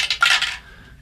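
Rune dice clatter across a tabletop during a tabletop role-playing game session, a short bright rattle of a few quick hits that fades into a faint ringing tail, heard alone.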